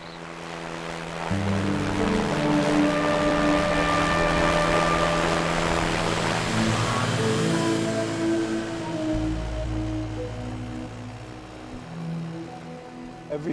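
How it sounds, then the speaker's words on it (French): Ultralight aircraft engines warming up, a steady droning hum with clear tonal harmonics that starts after a quiet moment and holds for several seconds, fairly loud, with no talk. "ils font chauffer les moteurs des ULM"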